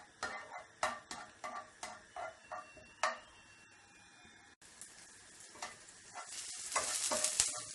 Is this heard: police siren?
no